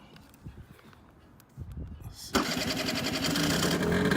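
An Aprilia motorcycle engine, with a twist-and-pull choke engaged, cranks briefly amid faint handling noises, then catches and settles into a loud, steady running idle close by.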